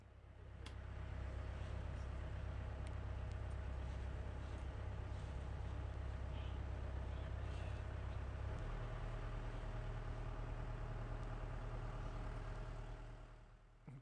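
The engine of a small harbour ferry crossing between Balboa Peninsula and Balboa Island in Newport Beach drones in a steady low rumble, its tone shifting partway through as it revs up, with water and wind noise around it.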